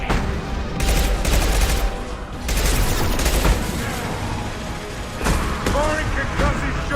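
Combat gunfire from Mass Effect 2, including a concussive shot: dense, loud volleys of shots and blasts come in repeated bursts with short lulls, over a busy battle background with occasional voices.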